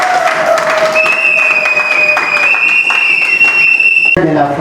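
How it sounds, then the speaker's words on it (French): Wedding guests at a civil ceremony break into steady, continuous applause with crowd murmur throughout, while sustained whistle-like tones ring over the top before a sharper sound near the end. "Applaudissez."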